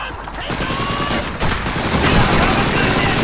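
Dense, continuous gunfire from the Call of Duty 2 video game fills the whole stretch with overlapping shots and booms, loud and busy, with a voice faintly mixed underneath.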